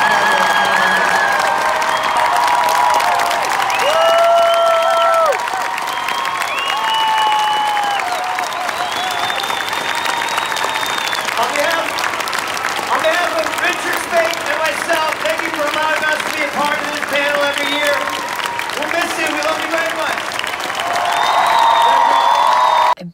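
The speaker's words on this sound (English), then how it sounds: "please, round of applause for our cast, Alex Calvert, Misha Collins," Large Comic-Con panel audience bursts into sustained applause and loud cheering as the cast is introduced, with whoops and shouted voices rising over dense clapping throughout.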